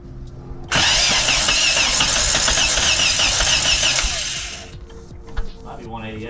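Honda Del Sol engine, just rebuilt with a new head gasket, cranks on the starter in a steady rapid whirring churn for several seconds without catching, then cuts off; loud and close, with brief sounds afterward.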